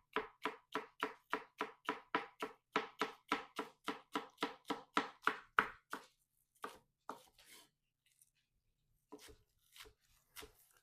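A knife slices green onions thinly on a cutting board in a quick, even series of crisp chops that stops, followed by a few scattered slower cuts and taps.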